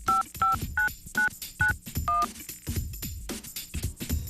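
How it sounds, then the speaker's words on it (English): A telephone keypad dials a number, sounding a quick run of six distinct DTMF beeps at uneven short intervals, clear and close, followed by faint background noise. "As she dials each number, pay attention to the sounds the numbers make."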